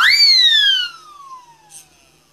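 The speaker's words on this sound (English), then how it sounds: "This is a siren whistle" A single siren whistle blast rises sharply then slides down in a long descending wail, loud and close, fading out.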